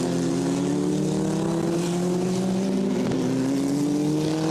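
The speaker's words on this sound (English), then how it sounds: "There's Jamie coming onto the back straight, car 55." A Formula Regional European Championship single-seater runs down the back straight at Misano, and its engine holds a steady, loud drone whose pitch climbs slowly as it accelerates, with no break in the sound.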